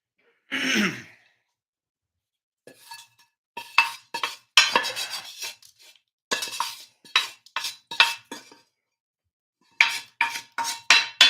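A pan is handled in a kitchen while cooking corned beef, giving a series of short metallic clinks and scrapes in quiet bursts, with a throat clear near the start.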